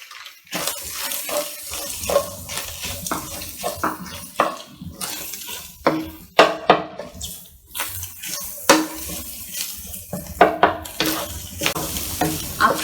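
Chopped green leeks are stir-fried into cooked egg in a pan while making Chinese egg noodles, with steady sizzling and a run of repeated scraping stirs close by and no talking.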